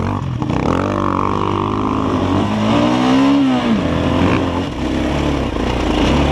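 A Chinese enduro motorcycle engine revs loud and close on a hill, its pitch climbing and falling under strain, with a steady rumble throughout.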